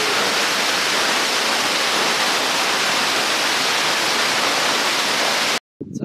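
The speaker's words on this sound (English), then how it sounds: "Right behind the waterfall, also what the French people call the cascade." A roaring waterfall, the cascade along the Le Puy Camino, pours as a steady, loud broadband rush close by and fills nearly the whole stretch before it cuts off abruptly near the end.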